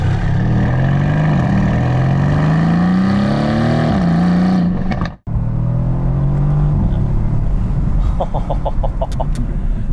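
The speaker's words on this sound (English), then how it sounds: "This thing sounds really good, and it's just a stock exhaust." A 600-horsepower Brabus-tuned Mercedes-AMG C63 S on its stock exhaust accelerates hard with a loud rising engine note, cuts out abruptly at a gear change, then pulls again with a burst of rapid crackles and pops.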